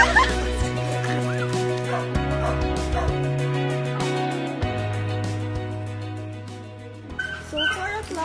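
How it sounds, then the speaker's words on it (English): Several dogs at a farm barking and yipping, with some whimpering, under steady low background music. "that's where the dogs are"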